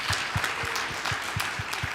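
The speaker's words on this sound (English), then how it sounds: "how about a round of applause for Julie?" Short audience applause for Julie at a startup tour event in Mississauga, moderately loud clapping with regular low thumps pulsing beneath it.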